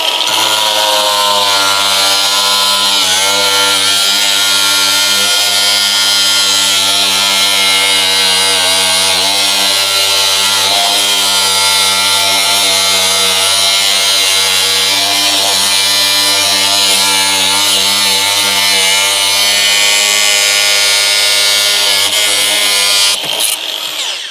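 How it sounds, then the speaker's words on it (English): Abrasive disc on a power tool cutting 110mm plastic underground drainage pipe: a loud, steady high-pitched whine and grinding drone that runs unbroken for over twenty seconds. "And then using the same disc, it's got a really nice abrasive side, we can put the bevel on."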